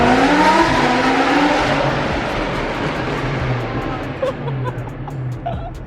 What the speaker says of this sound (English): It's like the loudest you could possibly make the Huracan, huh?